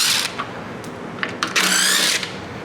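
A power tool, likely a cordless drill or driver, runs in short bursts and then a longer spin while removing 10 mm headlight fasteners on a Ford F-series pickup, close and fairly loud.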